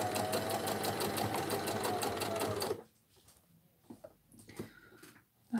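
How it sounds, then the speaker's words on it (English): A sewing machine stitches lace around the edge of a purse, a rapid even mechanical chatter running close and loud for about three seconds before stopping, followed by faint handling clicks. "I am sewing the lace around the edge of my purse."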